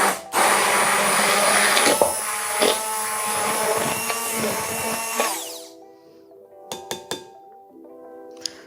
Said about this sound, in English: Whisk them into foam with hand mixer.